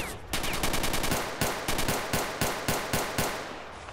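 Gunfire in STALKER Shadow of Chornobyl: a rapid automatic burst of close, sharp shots, then a series of slower, evenly spaced single shots.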